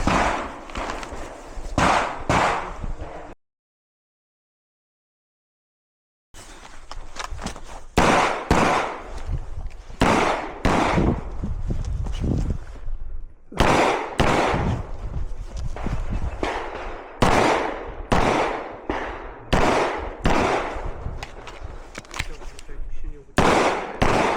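Rapid series of sharp, loud pistol shots cracking in irregular bursts at a shooting competition, with a brief silent pause near the start before the shooting resumes.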